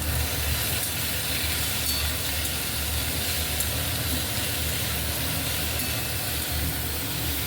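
Food frying in an iron wok, a steady dense sizzle running evenly throughout at moderate level, with no talking.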